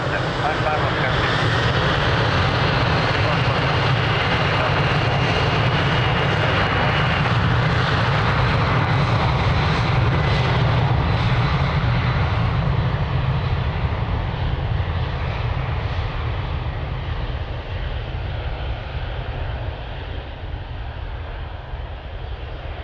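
An airliner taking off from runway 02 at Lisbon Airport, a loud continuous engine roar holding steady for over twenty seconds and easing slightly toward the end, with radio voices faintly over it.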